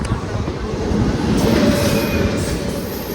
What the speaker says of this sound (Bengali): আমাদের ট্রেন এখন ছেড়ে বেরিয়ে গেল বর্ধমান জংশন